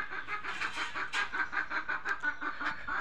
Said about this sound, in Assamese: আৰে আমাৰ মুৰ্গী